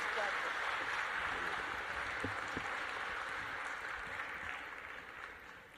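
Applause from a seated audience welcoming Dr. Ricardo Castañón to a talk on human reason and faith in the Eucharist, a steady broadband wash of clapping that fades slightly toward the end.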